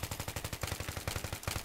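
Rapid automatic gunfire in the video game Battlefield 3 multiplayer: a tight, evenly spaced stream of punchy shots in short back-to-back bursts, loud and close, with no talking.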